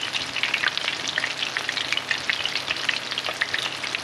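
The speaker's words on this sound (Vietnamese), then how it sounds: "các bạn cứ bỏ thẳng vào chảo dầu là chiên ngay" Breaded shrimp fry in a pan of hot oil, giving a steady close sizzle full of fine crackles and pops that runs evenly throughout with no talking.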